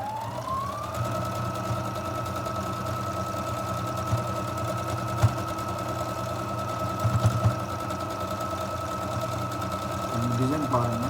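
A Brother DS1300 sewing machine stitches steadily at reduced speed, giving a close, continuous whirring drone with a few faint knocks.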